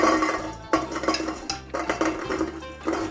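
Dry fava beans pour into a metal bean pot in a series of clattering rattles, several close, bright scattering bursts with short gaps between them, and no talking.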